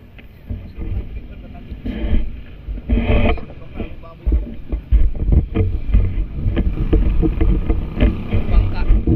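A bangka boat moves on the water at a river mouth, giving a loud, continuous rumble of water and hull with sloshing bursts, with wind buffeting the microphone.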